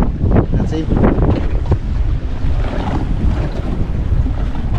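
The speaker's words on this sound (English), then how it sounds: "Little short pumps of wind." Steady wind buffets the microphone on a small fishing boat in the Whitsundays, with a continuous rough rumble of gusts and water noise throughout and no clear talk.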